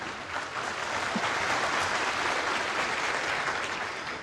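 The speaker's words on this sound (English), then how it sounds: "Safety appreciated by the crowd." A snooker crowd applauds a safety shot at the 2017 Shanghai Masters final, a dense, sustained round of clapping that fills the hall evenly from start to finish.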